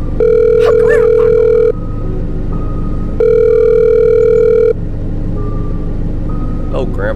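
Outgoing phone call ringback tone in The Stalked demo game, two long steady electronic ring bursts separated by a pause, loud over a low rumbling car-interior drone, with a brief voice near the end.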